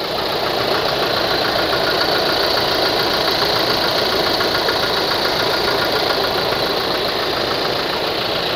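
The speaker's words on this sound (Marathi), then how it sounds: "गाडी चालू केल्यानंतर जो गाडीचा इंजिनचा आवाज आहे तुम्ही पाहू शकता" A Toyota Innova Crysta 2.4 G, a 2018 model, idles steadily just after starting, its diesel engine giving an even, loud clatter and hum that holds unchanged throughout with no voices.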